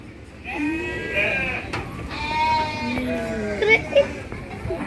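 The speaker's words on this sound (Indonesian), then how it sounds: "Oh, ada anak kambing itu yang paling kecil." Several bleats from goats and sheep at a petting farm, including a young kid, rise and fall in wavering calls close by, while children and adults chatter in the background.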